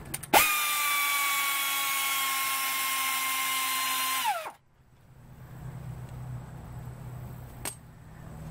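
A power tool whines steadily for about four seconds while loosening a brake caliper on a 1990 Buick LeSabre, then cuts out, leaving a quiet garage with a single sharp click later.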